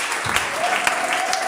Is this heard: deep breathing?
no